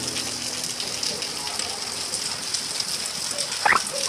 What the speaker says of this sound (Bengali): দেখলেন তো এখনও বাইরে সমানে বৃষ্টি হয়ে যাচ্ছে